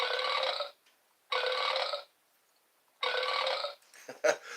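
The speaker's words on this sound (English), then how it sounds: "Because this has burp noises." A noise-making toy plays loud burp sound effects: three separate drawn-out belches with short silences between them, followed by a few brief scattered noises.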